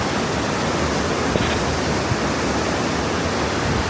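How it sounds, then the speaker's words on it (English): Powerful Mississippi River water rushing loudly in a steady, unbroken roar that fills the space, with no voices over it. "This is the Mississippi River, by the way. It's a very powerful river."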